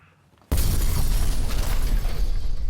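A single explosion sound effect bursts in abruptly after a brief quiet moment, then a loud, broadband rumble and crackle that sustains and slowly thins out.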